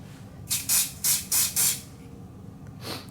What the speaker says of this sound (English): spray it with some glue dry.